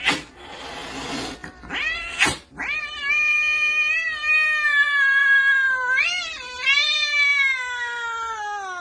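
A cat meows repeatedly, loud and close, with long drawn-out wavering cries after a couple of short sharp calls, no talking.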